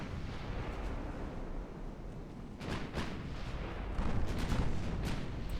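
Warship naval guns firing armor-piercing rounds in the naval strategy game Ultimate Admiral Dreadnoughts: a dense, continuous rumble of distant artillery with repeated booming bursts, louder toward the end, and no voices.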